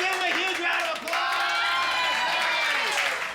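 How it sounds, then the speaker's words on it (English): A class of students bursts into loud applause mixed with cheers and whoops, a dense, energetic crowd noise that holds throughout. "Let's give him a huge round of applause."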